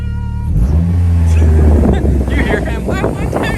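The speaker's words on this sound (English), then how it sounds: "The GT500 is over there. She's just chopping away. Sounds so good." A Ford Mustang GT500 sits running with a choppy, lopey idle, a deep rumbling engine loud and close in the open air with wind buffeting the microphone and people talking nearby.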